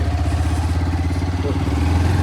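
Motorcycle ridden on a rough, broken road, its engine a loud, close, steady rumble with a regular throbbing pulse throughout.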